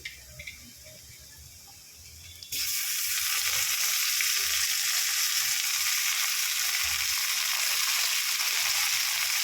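After a quiet moment, chopped tomatoes hit hot oil over fried onions with a sudden loud sizzle that keeps hissing evenly.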